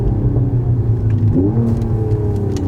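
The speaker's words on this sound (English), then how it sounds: "Just a downshift, upshift, downshift, upshift." A car engine revs loud and steady, its pitch climbing, dropping and climbing again as it shifts through gears, with no voices.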